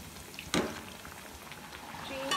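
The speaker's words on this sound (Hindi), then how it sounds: "अब इसको हम फ्राई करते हैं जी" Potato pinwheels frying in oil, a soft continuous sizzle and bubbling with a sharper crackling burst near the start and another toward the end, close and fairly quiet.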